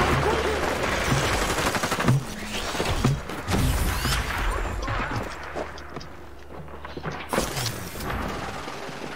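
Gunfire in Hyper Scape comes in clattering bursts and rapid shots from several directions, mixed with mechanical clicks and impacts over a busy game soundscape.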